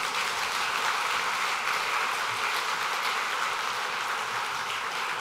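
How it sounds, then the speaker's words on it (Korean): A congregation at a Baptist ordination service gives a sustained round of applause in thanks, an even wash of many hands clapping at a steady, moderate distance with no talk over it. "하나님께 감사의 박수를."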